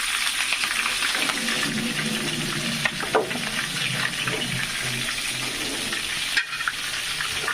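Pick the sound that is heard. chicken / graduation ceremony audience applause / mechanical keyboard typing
chicken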